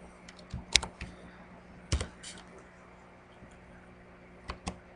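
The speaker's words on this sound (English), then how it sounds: "go ahead and hit play or P on your keyboard to play and try it out" A few light key presses on a computer keyboard, separate close clicks spread over a quiet background.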